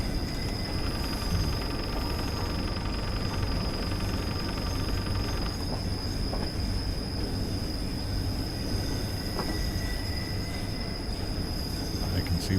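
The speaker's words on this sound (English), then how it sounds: "This is a heck of a turn for a train. Just listen to those wheels squeak" Train wheels squeal on a sharp curve in a train simulator game, a thin high-pitched screech riding over a steady rumble of rolling rail cars, continuous and fairly close throughout.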